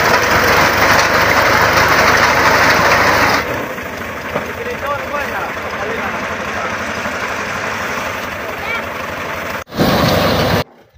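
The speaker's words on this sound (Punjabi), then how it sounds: "ਰੇਪਰ ਜਿਹੜੀ ਇਹ ਟਰੈਕਟਰ ਦੇ ਅੱਗੋਂ ਫਿਟਿੰਗ ਕਰਾਉਂਦੇ ਪਏ ਹਾਂ" A tractor fitted with a front-mounted reaper for cutting wheat runs with a loud, steady engine drone that drops to a lower rumble partway through, then briefly cuts out and returns near the end.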